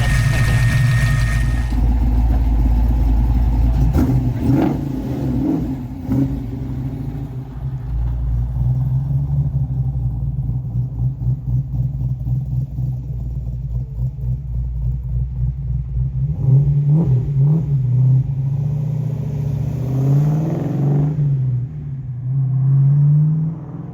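A car engine warms up at a steady idle, a loud low rumble throughout, with a few revs and shifting tones near the end as it begins to pull away.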